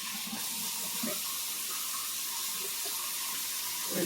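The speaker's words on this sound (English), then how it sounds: "I'm gonna rinse my hands." Running tap water splashes steadily over hands being rinsed at a kitchen sink, a soft continuous hiss with small irregular splashes throughout.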